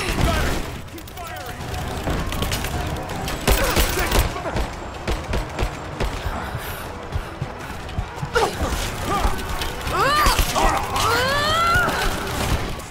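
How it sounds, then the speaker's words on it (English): Enemy grenades exploding in Rise of the Tomb Raider during a combat firefight, with repeated booms and bursts of gunfire amid a dense, chaotic mix. A player talks and exclaims loudly over the action. "Stop throwing grenades at me!"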